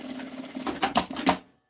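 A sewing machine stitches the tip of a fabric bag strap, its needle running in a quick rattling burst with a few louder thumping stitches before it stops abruptly, close and clear with no voices.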